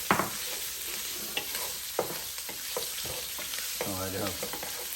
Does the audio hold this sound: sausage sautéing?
yes